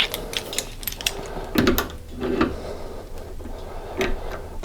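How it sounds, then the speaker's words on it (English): Wrenches tighten the crankshaft sprocket nut on a 1983 BMW R100RS motorcycle, giving close metallic ratcheting clicks and irregular clunks of tools against metal in a workshop. "just tighten that up, and then throw a couple of wrenches on it"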